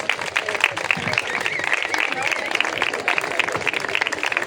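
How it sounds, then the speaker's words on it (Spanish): Audience clapping at Pimentón Fest, an outdoor festival, a moderate patter of applause from a crowd, heard with voices over it. "el aplauso más grande tiene que ser para ellos, para los encargados de que hoy estemos aquí pasando calor"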